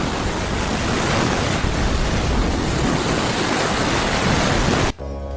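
Sea waves crash in a loud, continuous roar of surf that stays steady and close, then cuts off abruptly just before the end.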